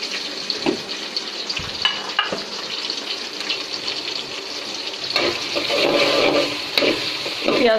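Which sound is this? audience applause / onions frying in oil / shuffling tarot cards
onions frying in oil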